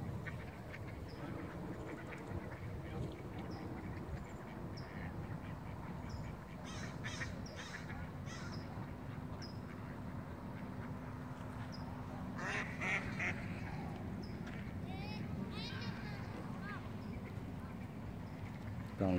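Mallard ducks quack in scattered bursts, faint and distant at first, then several clearer calls cluster near the middle, over a low constant background hum.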